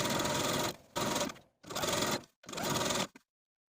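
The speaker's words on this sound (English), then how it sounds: "we're going to sew the top in the same way" A sewing machine stitches the top hem of a blouse in three loud, close bursts of rapid mechanical whirring, with short pauses between them and a final stop.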